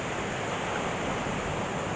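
Loud, constant roar of ocean surf at a shore-fishing spot, the wash of big waves blending with wind noise on the microphone.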